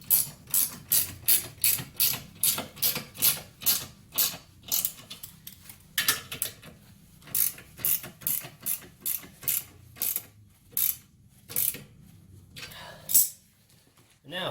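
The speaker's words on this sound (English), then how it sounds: "just take your wrench or your ratchet and tighten them up" A ratchet tightens trailer hitch bolts with a long series of loud, close, evenly paced ratcheting bursts, each stroke a crisp rapid clicking pulse, briefly pausing between sets.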